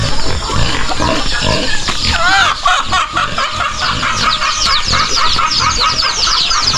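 Farmyard chickens, including a mother hen and tethered roosters, clucking and squawking in a dense, busy chorus throughout, close and loud, with other farm animal noise mixed in and no clear talk.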